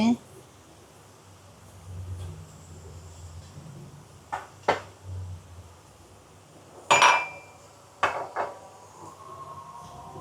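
Gima greens are stirred in a pan, with a utensil scraping and knocking against the metal in a few sharp, scattered clinks over a low background hum and a faint voice.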